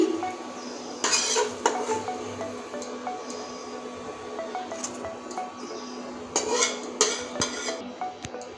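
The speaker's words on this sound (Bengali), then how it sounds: "এই দেখুন কুমড়োর বড়াগুলো ভেজে নিয়েছি, এবার নামিয়ে নিচ্ছি" Fried pumpkin fritters being lifted out of a frying pan, with close metallic clatters of a utensil against the pan and a couple of louder clanks over a steady low kitchen hum.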